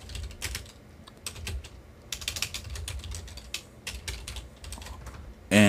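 Fast, uneven keystrokes on a computer keyboard entering a command, a close run of clicks with short pauses and a sharper tap at the end, with no talking.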